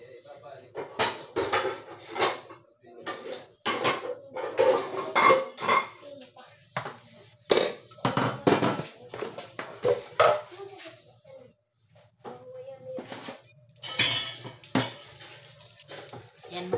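Dishes and utensils are rinsed and handled in a home kitchen, with repeated clinks, clatter and splashing water in irregular bursts, close by, while people talk over it.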